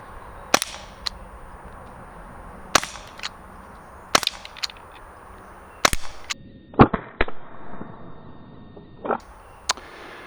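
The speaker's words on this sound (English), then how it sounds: "we are loaded up with another mag of rubber rounds, and we're gonna go ahead and take a few shots at the Ballistic Dummy Lab head" Sharp, loud reports from a T4E Walther PDP .43 caliber training pistol firing rubber rounds at a ballistic dummy head, about eight separate shots spaced irregularly with quiet gaps between them, no talking.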